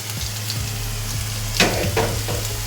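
Chopped vegetables tossed into a pan of browned onions, frying with a loud continuous sizzle close up, plus a few sharp crackles and stirring scrapes partway through.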